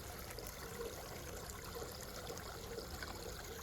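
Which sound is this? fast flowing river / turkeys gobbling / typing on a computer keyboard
fast flowing river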